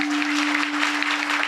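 An audience at a kirtan claps in a steady, continuous patter. A sustained tone runs underneath the clapping.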